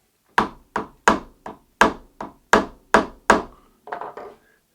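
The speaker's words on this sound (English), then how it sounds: "we're going to hit it with a hammer" A hammer drives a hole punch through a leather guitar strap in about ten sharp, close knocks at an uneven steady pace, with the last two blows softer.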